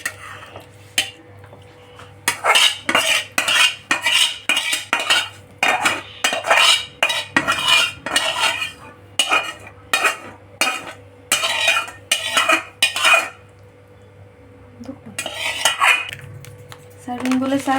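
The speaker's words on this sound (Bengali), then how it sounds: "সার্ভিং বোর্ডে সার্ভ করে দিচ্ছি আমি" Chilli gobi manchurian is spooned onto a serving board with metal utensils, giving a steady run of close, sharp clinks and scrapes in quick bursts, with a brief pause near the end.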